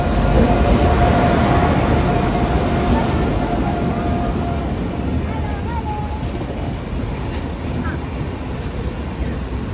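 The Howrah-Gaya Express running late rumbles at Rampurhat station, a loud, continuous low roar of the train with faint metallic squeals and tones over it.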